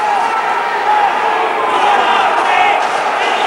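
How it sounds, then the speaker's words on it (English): A small crowd at a boxing match roars and cheers continuously, a dense sustained wash of voices that echoes in the hall, with commentary talk running over it. "The crowd on their feet. There aren't so many of them, but they're cheering to the echo."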